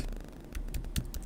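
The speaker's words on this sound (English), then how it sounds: "I'm typing my email address" Brief burst of computer keyboard typing, a quick irregular run of crisp key clicks at close range with no voices.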